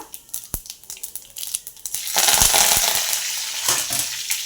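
Curry leaves dropped into hot oil already crackling with mustard seeds and cumin, a few sharp pops at first, then a loud, close, steady sizzling spatter that swells and holds to the end.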